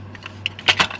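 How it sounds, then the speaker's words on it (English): Small metallic rattling and jingling clicks from a cat rattling an object, brief and uneven, close by over a low steady hum. "Sorry about my cat rattling on about something."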